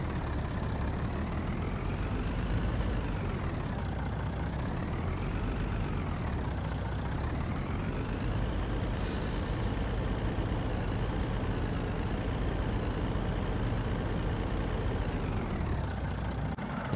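A heavy truck idles in Farming Simulator 19, a steady low engine drone that rises and falls slightly in pitch, with a brief sharp hiss of air brakes partway through; no talking.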